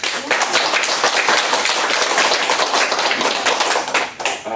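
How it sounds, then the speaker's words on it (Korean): A group claps together during a business presentation announcing the import of a high-efficiency filter, a dense, steady burst of hand claps lasting several seconds before tapering off at the end. "박수 한번 치자, 박수 한번."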